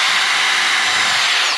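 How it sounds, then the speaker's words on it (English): A power drill whines loudly and continuously while pre-drilling holes into a wooden beam for a pallet house build, close up and alone, cutting off abruptly at the end. "That's where pre-drilling comes in."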